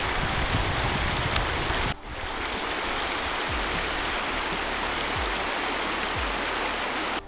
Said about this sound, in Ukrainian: От вона, велич, велич річки Рівниці.